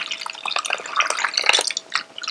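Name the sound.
whisking yogurt to remove lumps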